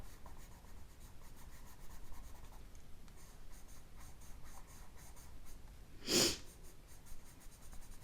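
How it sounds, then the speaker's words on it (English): A coloured pencil held on its side shades a stamped image on paper with a soft, faint, continuous scratchy rubbing, broken by one louder, brisk stroke. "just using the side of my pencil just to lay down"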